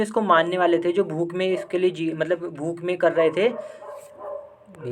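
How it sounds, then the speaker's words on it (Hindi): Dogs bark repeatedly in the background, mixed in with someone talking steadily in Hindi, the yaps rising and falling through most of the stretch. "वो कुत्ते भौंक रहे थे, इसलिए मुझे थोड़ा रुकना पड़ा"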